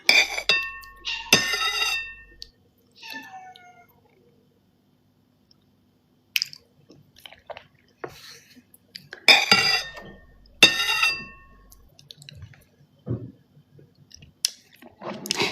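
Someone eating soup with audible slurping and chewing, several close, wet bursts separated by quiet pauses, with faint clinks of a spoon or dish.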